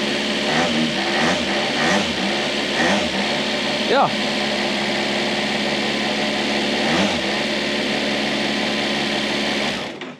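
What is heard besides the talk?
hydrogen motorcycle prototype based on Kawasaki H2 starting and revving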